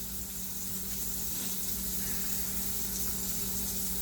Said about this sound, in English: the London broil has been searing now for a couple of minutes